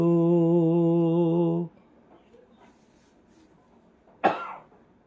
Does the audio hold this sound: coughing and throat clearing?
yes